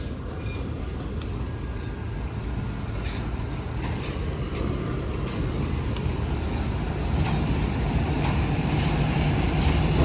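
Low steady rumble of Pakistan Railways trains at a station, with faint clanks and knocks scattered over the hum, slowly growing a little louder across ten seconds.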